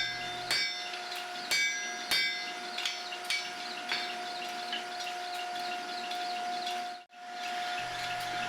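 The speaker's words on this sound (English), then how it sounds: "That's a really nice custom hand hammer made by Steve Howell of Ballard Forge in Seattle" Hand hammer strikes ringing on mosaic steel at a forge, a custom hammer from Ballard Forge in Seattle, with several sharp metallic hits early on over a steady humming workshop background, then fewer blows and a brief drop in the noise.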